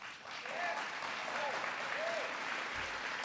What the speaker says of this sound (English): I got some applause for that